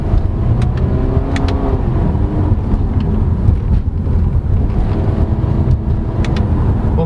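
2022 Subaru XV (Crosstrek) 2.0 i-S with a CVT accelerating to overtake in sport mode, heard from inside the cabin as a continuous, loud engine drone mixed with road and wind rumble.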